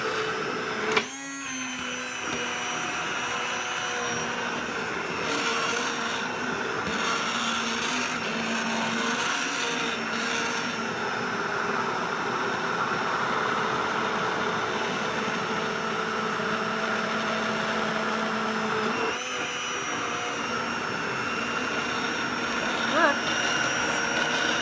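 A Keylitos immersion hand blender runs steadily on its turbo setting, a loud continuous motor whine with a brief start and a short dip and restart near the end; no talking over it.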